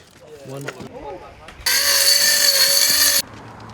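A power saw cuts wood for a concrete kicker ramp frame in one loud, steady burst of about a second and a half, preceded by brief talking and a few light knocks.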